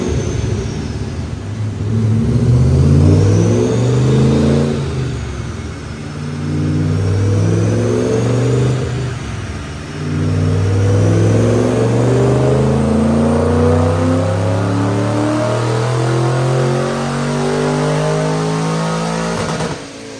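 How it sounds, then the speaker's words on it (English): A 2005 Mustang GT 3V with a Paxton supercharger, manual transmission, on 93 octane, revs hard on a dyno, its engine rising through repeated loud climbing pulls with gear-change dips, close and sustained with no talking. "Check out this dyno pull."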